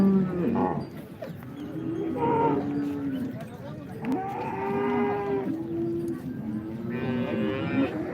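Cattle low repeatedly at a cow market in Modnimb, with several drawn-out moos at close range over a murmur of crowd talk.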